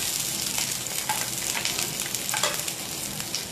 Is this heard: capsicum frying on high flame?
yes